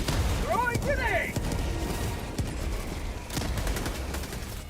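A thrown grenade detonates amid gunfire in Helldivers 2: several heavy, thudding blasts spaced about a second apart over a steady rattle of battle noise, with voices early on.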